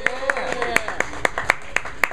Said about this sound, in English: All right, a round of applause for Scott,